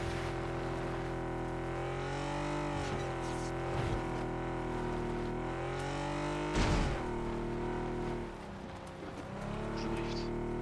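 Car engine drifting in the video game PUBG, a droning, wavering engine note that dips and swells with brief screeching bursts, steady and fairly close.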